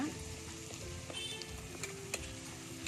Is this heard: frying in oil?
yes